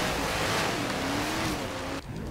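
A 7.2-litre naturally aspirated car engine in Forza Horizon 3 roars loudly at sustained revs, then cuts off abruptly near the end.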